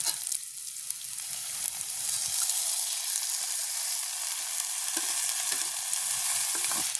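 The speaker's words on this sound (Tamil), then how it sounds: "நாங்கள் அதோட இறாலையும் சேர்த்து கொள்வோம்." Prawns fry in a pan with onion, chili, fennel and fenugreek over an outdoor village cooking fire, giving a steady, close sizzle with a few soft scrapes of stirring and no talking.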